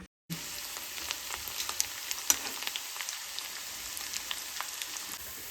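Hog plum (ambade) pickle mixture frying in hot oil gives a steady, close sizzle with scattered crackles and pops throughout and no voices.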